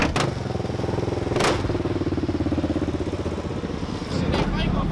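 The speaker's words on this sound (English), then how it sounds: "Random bike gang just pulled up." Motorcycle gang pulling up, a steady loud rumble of several bike engines idling close by, with a couple of sharp clattering thumps over the drone.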